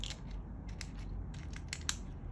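The threaded bottom of a Vaptio Zeton vape tank is twisted on, giving faint, close clicking and gritty scraping ticks in short bursts against quiet room noise.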